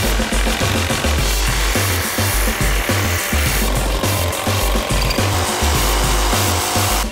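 A handheld power saw fitted with a fresh Bosch blade cuts loudly and continuously through metal in a steering-shaft lock test, its rhythmic sawing strokes close and dominant with no talking.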